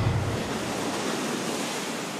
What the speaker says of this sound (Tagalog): Malalakas at malalaking alon ng patuloy na humahampas sa dalampasigan sa Apari, Cagayan.